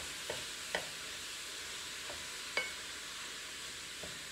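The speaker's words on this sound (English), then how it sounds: "just keep stirring that through until the meat looks cooked" Meat frying in a home kitchen pan, a steady soft sizzle with occasional faint scrapes and knocks of stirring, quiet and close, no talk.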